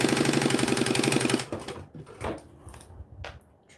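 A sewing machine runs fast over striped fabric for about a second and a half, a steady rapid stitching whir, then stops, leaving quieter handling sounds.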